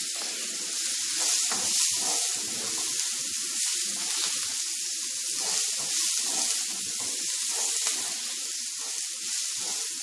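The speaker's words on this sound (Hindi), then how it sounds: "ये प्याज डाल रहे हैं।" Chopped green onions sizzle in a hot pan, a loud steady frying hiss with crackling bursts and occasional stirring scrapes, close up and continuous, with no voices.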